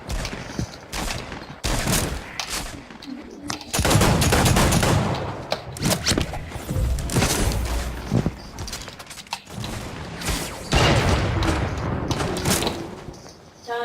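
Gunfire in the video game Fortnite: rapid bursts and single shots crack in dense, uneven volleys, loud and close, with brief gaps between exchanges.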